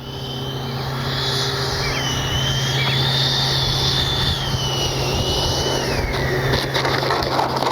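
An FMS 80mm F-86 RC jet whines in for a slow landing with flaps down, its ducted-fan tone loud and sliding downward as it passes and settles, with steady outdoor rumble beneath.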